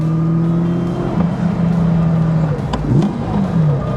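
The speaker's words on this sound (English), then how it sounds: "Changing down with the blip of the throttle." A 400bhp Jaguar E-type V12 restomod heard from inside as it downshifts, the engine droning, then a sharp throttle blip rising and falling as the gear drops, loud and close with no speech.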